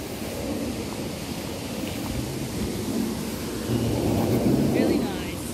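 Waterfall on the Florida International University campus: a steady, loud broadband rush of falling water that swells slightly toward the end, with a voice talking over it.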